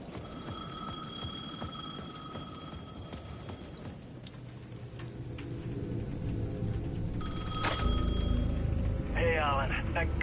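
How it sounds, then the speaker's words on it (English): A payphone at the edge of a plaza in the video game Alan Wake II rings in bursts of bright electronic trilling, one early and another later, over a low, murky ambient rumble that builds toward the end. "The payphone at the edge of the plaza was ringing again."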